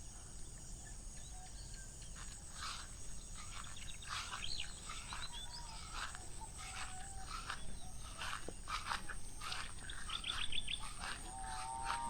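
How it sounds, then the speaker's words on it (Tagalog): Outdoor dawn ambience at a riverside camping spot in Zambales, Philippines, with scattered bird chirps and tweets over a steady hiss of insects or flowing water, birds sounding moderately distant. "Ganda ng tunog ng ibon."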